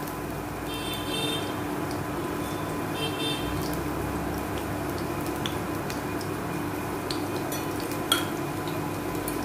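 Garlic sizzling in hot oil in a cooking pot, a steady crackling fry with occasional light metallic taps and stirring clinks.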